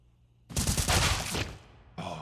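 Burst of loud gunfire in CS:GO during a Gamers8 2023 match between GamerLegion and Apeks, a dense rattling volley lasting about a second, then a brief shorter burst after a pause.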